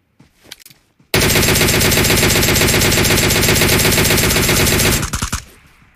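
Sustained automatic gunfire in the video game PUBG, a dense, loud, rapid burst of shots lasting several seconds, preceded and followed by a few separate shots with a short echoing tail.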